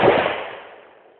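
A single sharp rifle shot cracks at an outdoor shooting range, loud and close, its report decaying in a short echoing tail with no talking.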